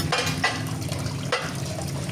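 Water pours and splashes into a basin for washing dishes, a steady running gush with a few sharper splashes, fairly close.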